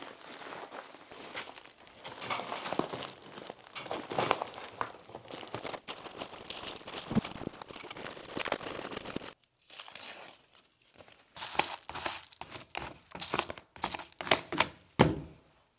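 Plastic electrical tape crinkles and tears close by as it is wrapped around wires, a steady rustling run broken by a short pause, then a series of sharp crinkling bursts and snaps.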